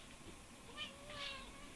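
A cat meows a couple of times at close range near a computer keyboard, two short faint cries over a low room hiss.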